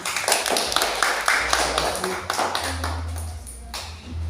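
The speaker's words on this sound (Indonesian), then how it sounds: "Kita berikan tepuk tangan." Classroom applause for a student discussion group, a sustained patter of hand claps from pupils lasting throughout, with a low hum underneath and some voices mixed in.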